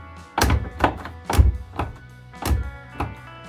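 Soundproofed door of a VW Pointer car opened and shut repeatedly, giving about six solid, damped thunks in an uneven rhythm, close and fairly loud with no talking.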